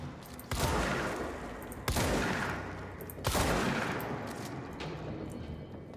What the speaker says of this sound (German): Wer schießt auf mich da?